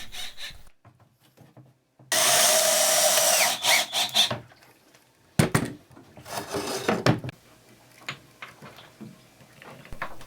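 Scrap plywood is screwed onto a proa dinghy, with a sustained loud burst of power-driver whirring followed by shorter grinding and scraping bursts of screws biting into wood, separated by quiet pauses.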